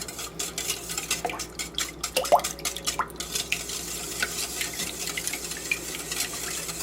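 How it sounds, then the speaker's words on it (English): A fork whisks a French toast casserole mixture of milk and vanilla extract in a bowl. Quick, faint clinks and liquid stirring sounds repeat in a rapid, uneven rhythm, with no voices. "Now whisk it."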